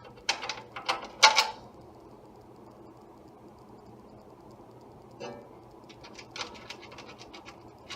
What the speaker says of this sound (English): you take your ratchet with your 7/16 socket with your wrench 7/16 to hold the nut on the bottom